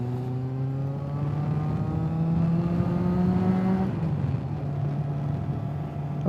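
Kawasaki ZX6R motorcycle engine droning steadily with rising harmonic pitch, then dropping abruptly as it changes gear and pulling again, loud and close throughout.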